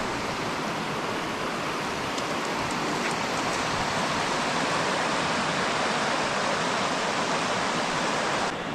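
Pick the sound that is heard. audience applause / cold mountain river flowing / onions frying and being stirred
cold mountain river flowing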